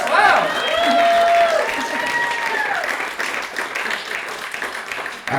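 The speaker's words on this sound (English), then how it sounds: "Round of applause." Comedy-club audience applauding a couple married 28 years, a steady broad wash of clapping and cheering that holds loud through the first seconds, then thins and wavers toward the end, with a few whoops over it.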